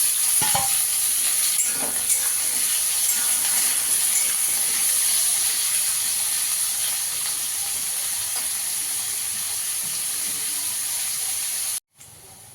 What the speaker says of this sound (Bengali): পেঁয়াজ আর আলুটা ভাজা হয়ে গেছে